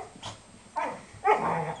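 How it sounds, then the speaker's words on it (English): Dogs playing, an Australian Shepherd with a five-month-old English Springer Spaniel puppy, give a few short close growls and yips that grow louder toward the end. "the Australian Shepherd takes him down and Sky goes belly up"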